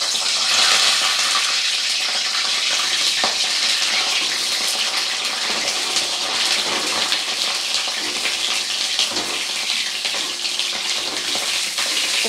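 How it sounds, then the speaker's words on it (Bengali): Pointed gourd (potol) pieces sizzling in hot oil in a pan, a steady loud broadband hiss and crackle that runs throughout without pause. "এবারে তেলের মধ্যে পটলগুলোকে দিয়ে দেবো এক এক করে। প্রথমে পটলগুলো একটু হালকা করে ভেজে নেব।"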